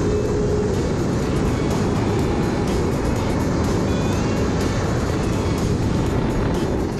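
A gas turbine jet boat races along the braided Rakaia river over shallow gravel bars, its roar loud and unbroken, a dense rushing engine-and-water noise filling the whole stretch with no pause.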